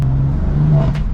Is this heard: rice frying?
no